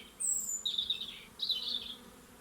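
Honey bees on a drone-laying hive frame, with young males emerging, give two buzzing swells of moderate loudness, each lasting about half a second, over a quiet background.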